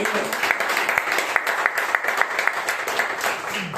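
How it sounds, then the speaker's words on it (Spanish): A church congregation applauds, with many hands clapping in a dense, steady patter that carries on for several seconds. "Merece un aplauso a esto"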